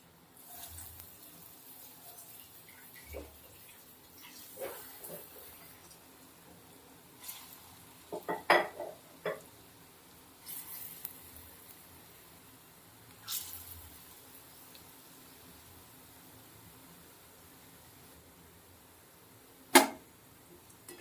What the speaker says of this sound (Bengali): উল্টে পাল্টে হালকা লাল লাল করে ভেজে নেব।